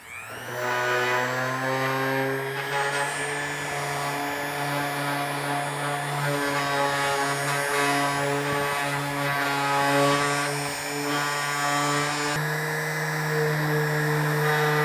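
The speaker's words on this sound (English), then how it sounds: "So now it's time to go to the waterless wash, 800 grit on a DA, finish this out, level it out" A dual-action sander with 800-grit paper works over a DeLorean door panel, giving a continuous droning hum with strong steady tones and slight pitch shifts throughout, with no voices.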